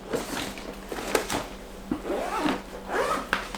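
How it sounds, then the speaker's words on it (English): A zipper closes on a Black Magic fishing tackle bag, several quick rasping pulls close by with short pauses between strokes. "zip it up, and that's the Black Magic tackle bag."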